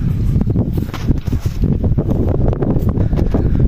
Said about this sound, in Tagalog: Mahangin ngayong umaga na to.